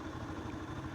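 A Yamaha YD100 motorcycle engine idles with a fast, even low-pitched putter while being shifted into gear, heard close up and fairly quiet with no one speaking.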